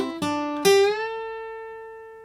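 Electric guitar plays the closing line of a riff: a few quick plucked notes, then a held note that slides upward and rings out, decaying slowly in isolation.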